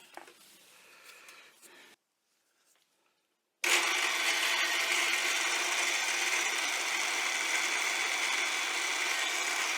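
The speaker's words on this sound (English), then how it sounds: "So I need to drill a hole," A power drill bores a hole in metal for a welding arm rest. Light handling noise comes first, then a short silence, then a loud, steady, high whine that runs continuously to the end.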